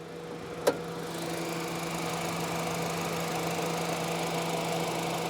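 A 2012 Honda Fit Sport with a basic four-cylinder engine idles under an open hood, giving a steady, even hum with a single sharp click near the start.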